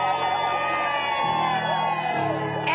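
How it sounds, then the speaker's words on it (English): A crowd at an outdoor Friday morning plaza party whoops and shouts with cheers. Bright, wavering voices are close and loud and continue throughout, with a sharp yell near the end. "We've got a great crowd behind us"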